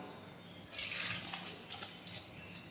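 Soaked raw rice is tipped into a strainer, setting off a steady rush of draining water with some light patter and dripping, fairly close and with no voices.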